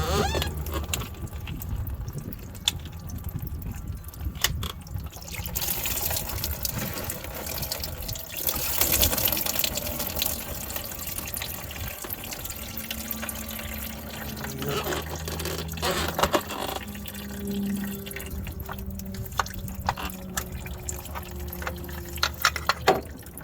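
Coolant gushes and splashes out of a 1999 Honda CR-V engine during timing belt and water pump work, a rushing liquid pour with clinks of tools, while someone talks intermittently.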